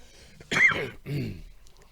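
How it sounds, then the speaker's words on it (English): Two rough coughs in quick succession, close and fairly loud, with brief quiet before and after. "still got a little bit of a cough."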